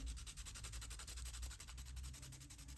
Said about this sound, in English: I start to gently rub the graphite on the sandpaper